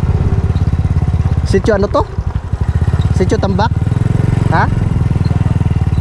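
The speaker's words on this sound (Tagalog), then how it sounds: "Ang bait nitong motor ni Uncle Dan." A motorcycle rides along with its engine droning steadily and close throughout, while people talk over it in short exchanges.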